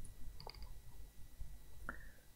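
A computer mouse gives a few faint, sharp clicks in a quiet room, spaced irregularly over a couple of seconds with no talking.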